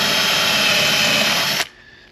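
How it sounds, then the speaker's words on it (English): A power drill bores through the aluminium-style main frame of a boat, a loud steady high whine held close for about a second and a half before it abruptly stops and winds down. "I think this drill bit's going to do it on our main frame. Let's just do a backwards drill through there."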